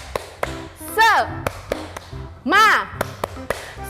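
Children at a Sunday school service perform the tepuk semangat clapping chant, sharp rhythmic claps in a patterned sequence interspersed with two loud sung or shouted vocal bursts.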